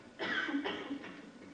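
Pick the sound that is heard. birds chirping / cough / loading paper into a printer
cough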